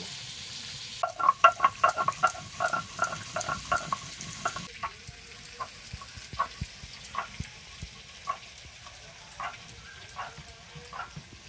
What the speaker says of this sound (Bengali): পেঁপে আলুটা আমার ভালোভাবেই ভাজা হয়ে গেছে